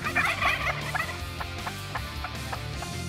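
Wild spring turkeys gobble outdoors, several bursts in a loose series of rattling calls at moderate distance, with no talking.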